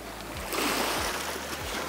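Ocean waves wash onto a moonlit beach at night, a steady broadband surf rush with soft swells rising and falling, heard alone with no voices.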